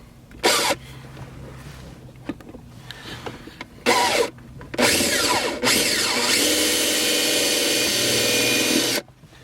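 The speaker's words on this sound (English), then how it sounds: "So I'm gonna take our drill" Power drill whirring in several short bursts, then one long sustained run, close and loud, drilling a hole in a Toyota Avalon, with quieter handling noises between.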